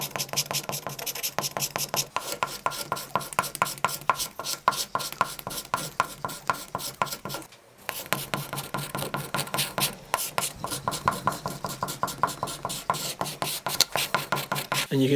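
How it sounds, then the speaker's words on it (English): Rapid back-and-forth scratching as 80 grit sandpaper is worked over a cricket bat under repair, a close, rhythmic rasp repeating steadily, with a brief pause midway before the strokes resume. "just still following the normal process of coming in and sanding down with like 80 grit to start off"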